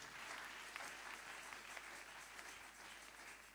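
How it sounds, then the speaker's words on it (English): An audience at a church conference applauds a chancellor, producing a faint, steady patter of many hands clapping at a distance with a few sharper claps standing out. "Clap for the chancellor."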